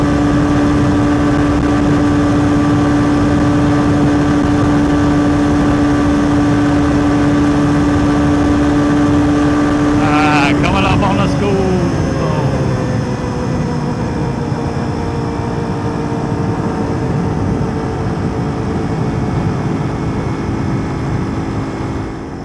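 A Yamaha TW200 motorcycle engine held at full throttle on a downhill start, a loud steady drone with a strong tone that shifts in pitch midway and keeps running.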